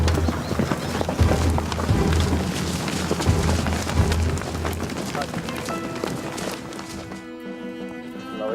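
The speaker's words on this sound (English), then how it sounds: "When Javier Martin is not herding cattle, he gives displays of traditional Spanish horsemanship." Hooves clip-clop during a display of traditional Spanish horsemanship in Spain, with steady rhythmic beats under music and a spoken voice before the sound thins out into a fading tone.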